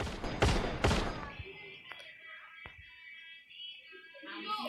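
Gunfire in the mobile game Free Fire, two sharp loud shots near the start followed by fainter thuds and game effects, with a voice speaking over parts.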